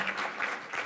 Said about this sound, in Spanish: Demos un caluroso aplauso y la más cordial de las bienvenidas a nuestro ponente